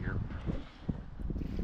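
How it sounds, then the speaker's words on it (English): Wind buffets the microphone with a steady low roar on a windy day in a sheltered corner near boats, continuous and close for the whole moment. "it's a pretty windy day"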